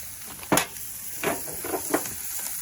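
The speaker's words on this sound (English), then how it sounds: "now I'm going to start adding some butter. So I want that to infuse into the onions as well" Butter sizzling among onions in a pan on a Big Green Egg grill, a soft, steady hiss broken by a few distinct scrapes or stirs, close and fairly quiet with no talk.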